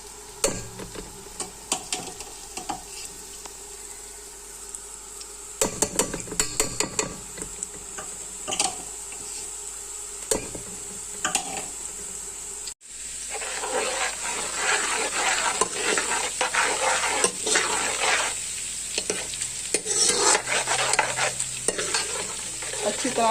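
Garlic paste frying in oil in a pan, sizzling steadily at close range with scattered crackles. The sizzle swells louder and brighter about halfway through as it is stirred, and no one speaks.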